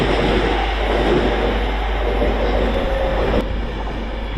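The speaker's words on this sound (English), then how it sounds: "leaving behind us now 350-246 on the London Euston to Crewe service, with 350-253 on the rear." A two-unit Class 350 electric train pulling out of Stafford on a London Euston to Crewe service, a loud steady rolling rumble with a deep low hum, easing slightly toward the end, with no talking.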